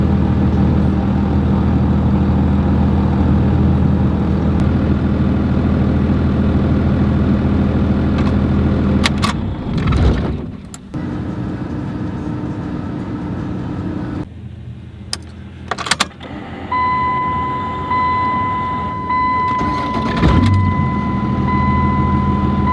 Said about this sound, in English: I've got some clips of me shutting the truck off and then coming back out a little while later and starting it up, and you can see that she fires right up